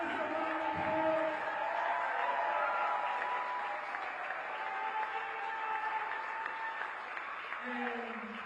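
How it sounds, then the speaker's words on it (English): A crowd applauds at a congressional primary election-night gathering, with steady clapping and scattered cheers, moderately distant, and a voice speaking over the noise. "Give Melissa a round of applause."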